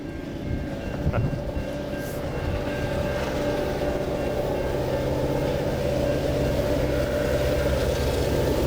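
A train passes on the railway with a steady, heavy rumble that swells a little and holds, a faint tonal whine riding over it and no voices.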